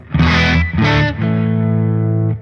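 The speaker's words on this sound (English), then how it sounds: "Stack drive, iconic British stack sound with range from sparkly clean to a high vintage raw." Electric guitar through a Boss OD-200 overdrive pedal on its British stack drive setting plays two short chord stabs, then a sustained ringing chord with a gritty, crunchy amp tone, loud and close.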